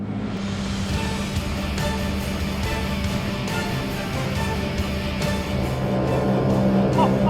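An AB Jet 290 tender, 2.9 metres long with an 89 hp BRP Rotax engine, drones loudly and steadily. The engine sound rises slightly toward the end, and the constant roar of motor and water never lets up.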